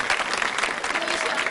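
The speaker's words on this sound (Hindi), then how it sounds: "तालियों की गड़गड़ाहट में आपका नाम नहीं सुनाई दे रहा है" Quiz show audience clapping at a Republic Day special, a brief loud burst of thick, even applause from a crowd, with some voices underneath.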